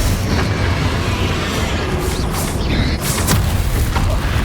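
Confringo fire spell blasts in Hogwarts Legacy, a sustained loud rumbling boom with crackling bursts layered over a heavy low roar throughout.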